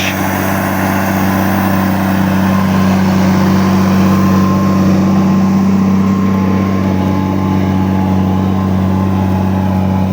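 A Case MX270 tractor hauls a 5+1 Veles Agro plough through heavy field soil, its engine a loud, steady, low droning hum with a constant tone, close by and uninterrupted.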